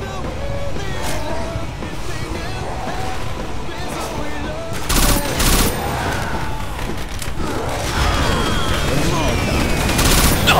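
Rapid gunfire in the zombie shooter Left 4 Dead 2, loud bursts of shots over a steady noisy game backdrop, with a player talking over it.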